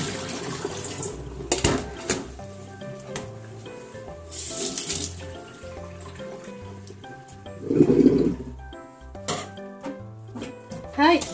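Tap water runs and splashes while shiso leaves are washed for pickled plums, a close, uneven gush with clinking and rustling, and someone speaks at times over it.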